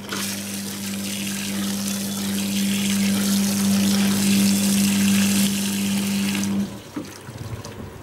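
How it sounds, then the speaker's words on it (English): Hot water runs hard through a denture flask during dewaxing, a loud steady rushing gush with a pump-like hum that cuts off abruptly near the end, leaving faint trickles. "So hot water will be running through here, and then we begin washing the upper and lower members."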